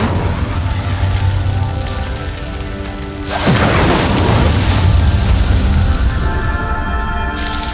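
Fire spell cast in Hogwarts Legacy, a sudden loud whooshing burst that swells into a sustained roar over a steady ambient game background.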